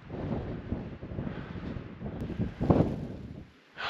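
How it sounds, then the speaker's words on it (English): Wind gusting on a snowy mountain hike at about 11,300 feet on Flattop Mountain in Rocky Mountain National Park, a steady rushing buffet against the microphone with a few louder gusts. "The wind is picking up"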